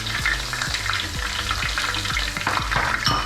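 Garlic paste sizzling and frying in a hot pan while making vegetable pulao, a steady dense crackle with repeated low scraping stirs, close and fairly loud, no voices.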